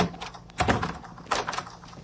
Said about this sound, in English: Stupid door.